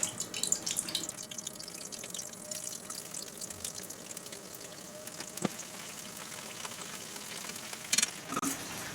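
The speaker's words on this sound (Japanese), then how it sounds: "フライパンで油を熱してこれから揚げていきたいと思います" Chicken breast deep-frying in hot oil in a frying pan gives a steady, faint crackling sizzle with scattered pops and small bursts, no voices.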